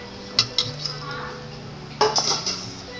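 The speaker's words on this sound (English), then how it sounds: "I add all my wet ingredients in the same container and mix it in." Crab cake wet ingredients are mixed in a container, giving a few sharp clinks and taps of a utensil against the container, two near the start and a cluster just after the midpoint, over quiet room tone with a faint low hum.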